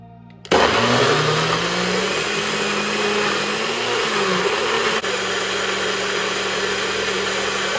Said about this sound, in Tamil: பிளெண்ட் பண்ணிட போகிறேன்.